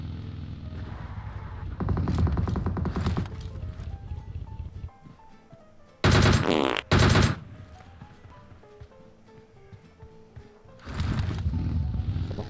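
Gunfire rattles in PUBG Mobile: an early sustained burst of rapid shots, then two loud, sharp volleys near the middle, and a final burst at the end, with quieter game music and ambience in between.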